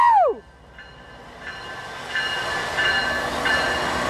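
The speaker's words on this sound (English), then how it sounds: "Bring on that horn!" A Norfolk Southern freight train led by NS 9885 passes close by with its horn sounding, ending in a falling blast, then comes a rising roar of rolling wagons and clattering wheels.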